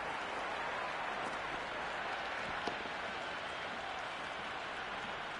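Dense crowd noise at a cricket match in the video game Cricket 26, Karachi Kings versus Peshawar Zalmi. It is a steady, distant wash of cheering and applause that stays even throughout, with no clear voices on top.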